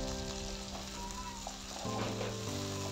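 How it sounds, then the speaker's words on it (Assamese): Chopped tomatoes fry in a pan over golden-browned aromatics, a faint, steady sizzle under a constant low hum, brief and quiet throughout. "এতিয়া দিয়াতে দি দিছো কাটি থোৱা বিলাহীখিনি আমি গলি যোৱালৈকে এনেকৈ ভাজি থাকিব লাগিব"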